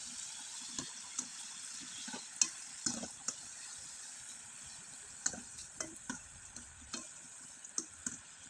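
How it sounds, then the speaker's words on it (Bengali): Sun-dried chikon pitha fry gently in oil over low heat, a soft, quiet sizzle with scattered light ticks and taps from stirring, close and steady without any voices. "আর এখন কয়েকটা পিঠা আমি আপনাদের ভেজে দেখিয়ে দিচ্ছি"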